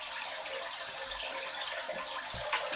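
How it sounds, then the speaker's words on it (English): Fresh water poured into a home aquarium, a continuous close splashing rush of liquid that stays fairly even for a few seconds, with no talking. "to have the fresh water poured in."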